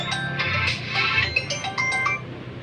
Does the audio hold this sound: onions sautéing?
no